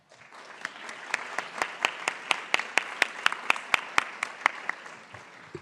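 Sparse clapping from a small group at a legal profession diversity event, individual claps distinct and steady, moderately close, with no talking over it.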